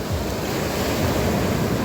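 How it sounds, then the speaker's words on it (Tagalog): Steady roar of ocean surf washing onto a sandy, rocky shore at Dipaculao, Aurora, with constant wind rushing across the microphone and no voices. "Mas kalmado ang alon."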